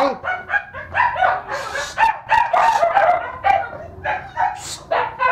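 Several dogs bark and yip in rapid, overlapping bursts inside a storeroom, loud and close throughout, with no pauses between the outbursts.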